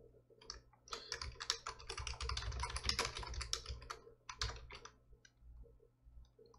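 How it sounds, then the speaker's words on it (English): Rapid, continuous typing on a computer keyboard, with dense clattering keystrokes that pause briefly and then resume, close and fairly quiet, with no talking. "just type in"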